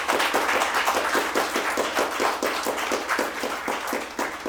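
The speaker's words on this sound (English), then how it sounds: "give a round of applause for yourselves" An audience applauds at a sober lounge gathering in Omaha, Nebraska, with steady, dense clapping that holds evenly and close throughout.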